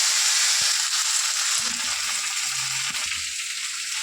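Red amaranth greens tipped into hot oil with black cumin, a steady close sizzle and frying hiss throughout, with soft stirring thumps underneath and no talk.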